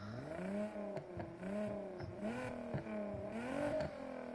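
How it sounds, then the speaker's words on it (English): Tuned, aggressive exhaust on a video game car revving repeatedly in a steady loop of rising and falling engine notes, close and continuous, with no talk over it. "We are gonna tune the exhausts, make them a bit more aggressive"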